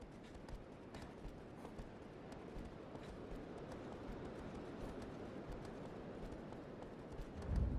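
Horse hooves gallop in Shadow of the Colossus, a steady rapid drumming of hoofbeats that runs throughout at moderate level, swelling slightly at the very end.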